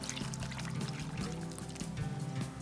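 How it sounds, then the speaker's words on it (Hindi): Water is poured into a pot of vegetable pulao with whole green chillies, a steady close pouring trickle for a couple of seconds with no talk over it. "थोड़ा सा पानी हम इसमें और डालेंगे"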